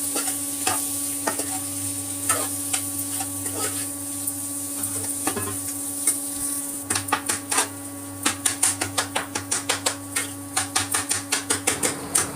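A spoon scraping and stirring in a pan as ginger, chilli, salt, turmeric and coriander powder are fried, with a steady sizzle underneath and quick rhythmic metallic taps that speed up toward the end.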